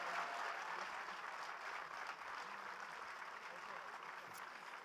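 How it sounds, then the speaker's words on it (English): Steady applause from an audience at a literature festival session fills the whole stretch. It is dense and even, with no single claps standing out, and the clapping holds at the same level throughout. "can we all give a very warm round of applause for Adam and his great"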